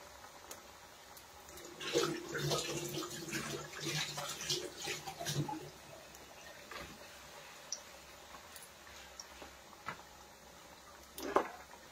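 Hands being washed under a running kitchen tap, soft splashing water over a few seconds, then quieter drips and faint taps at a moderate distance.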